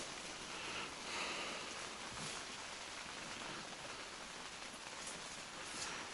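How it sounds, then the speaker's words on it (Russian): Heavy rain pours down steadily outdoors on a winter ice fishing trip, a dense, even hiss of drops hitting the surface that continues without a break and has no voices over it. "Дождь херачит, ребят, как из ведра,"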